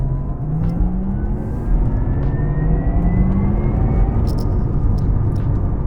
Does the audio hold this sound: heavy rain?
no